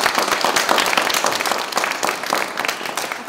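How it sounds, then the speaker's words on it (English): An audience at an anniversary panel roundtable claps in a short burst of fairly close, dense applause that holds steady throughout and fades only slightly at the end. "So Jalen, I want to give a round of applause."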